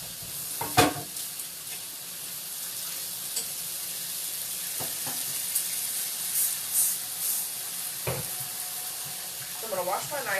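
Food sizzles in a frying pan with a constant, close crackling hiss, broken by a few sharp stirring clicks and a short stretch of talk near the end.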